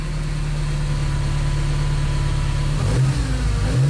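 A 1978 Ferrari 308 GTB engine runs at a steady, loud, close-up idle with a droning low hum, then blips its revs near the end in a quick rising and falling surge.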